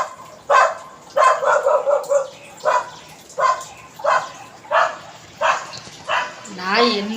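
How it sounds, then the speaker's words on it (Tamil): A dog near a road barks again and again in short, evenly spaced bursts, about eight in all, with a voice briefly heard near the end. "அந்த நாய் தான் குலைச்சிட்டு ரோட்டில் ஒரு வண்டி விட மாட்டேங்குதுங்க"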